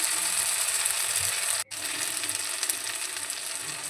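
Spice masala with tomato is being cooked down in a pan, giving a steady, close hiss of frying with faint stirring, broken by a very brief gap partway through before the sizzle resumes.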